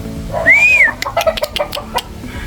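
A pure Jenkin and Kelso gamefowl rooster gives a short, close, rising and falling call, followed by a run of quick clucks.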